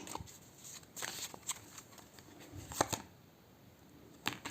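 Tarot cards are shuffled by hand in quick, quiet bursts of riffling and flicking, with short pauses between. Faint and close, no talking.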